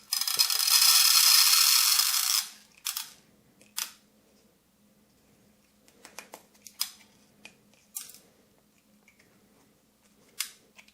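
Steel shotgun cartridges being cut open: a loud, sustained hissing cut at the start, then scattered sharp clicks, snips and ratcheting mechanical ticks at close range with no talk.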